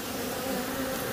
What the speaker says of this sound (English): Look at that ball of bees right there.